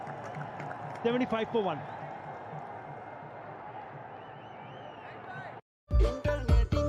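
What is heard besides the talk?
applause from fans at a cricket match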